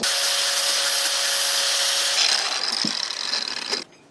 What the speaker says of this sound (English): This is actually a cut-off wheel in here right now, which is a bit hack.